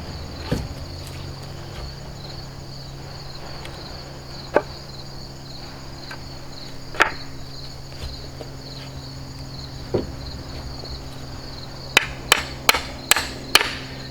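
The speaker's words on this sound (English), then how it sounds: "make sure you pound it until you seat that carriage bolt in there." Hammer blows drive a carriage bolt into a wooden sawbuck frame for firewood: a few isolated knocks spaced seconds apart, then a quick burst of five strikes, over steady outdoor insect chirping.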